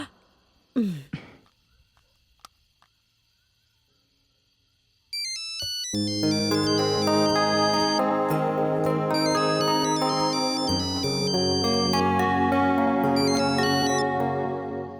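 A phone ringtone plays a loud, bright electronic melody that repeats steadily after a short quiet pause with a faint sigh, while a call is placed at home.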